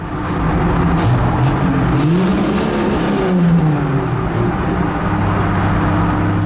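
Car driving through the Baltimore Harbor Tunnel, a loud, steady road roar echoing in the enclosed tube, with engine tones rising and falling as it moves.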